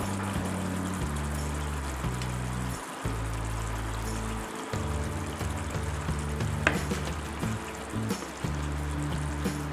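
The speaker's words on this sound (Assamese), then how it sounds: "ইয়াতে আমি যিখিনি ফ্ৰাই কৰি থৈছিলোঁ মাছ, সেই ফ্ৰাই কৰি থোৱা মাছখিনি দিম।" Fried fish pieces go into curry gravy simmering in a shallow pan, giving a soft steady sizzle and bubbling with a few stirring knocks, while low background tones come and go.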